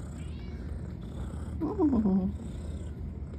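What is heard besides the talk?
cat purring while kneading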